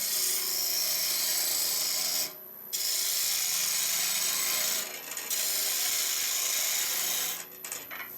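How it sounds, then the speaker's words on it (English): A steady, harsh rattling chatter of a woodturning tool against a calabash bowl spinning on a lathe, broken by a few brief pauses, with no talking. "Tool's rattling."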